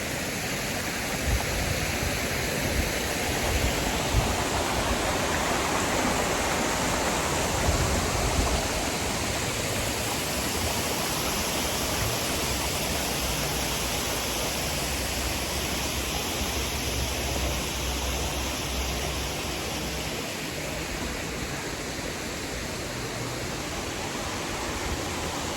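A waterfall near Goslar pours in a continuous broadband rush, steady and fairly close throughout, with no voices.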